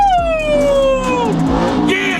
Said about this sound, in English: That's a good, genuine American V8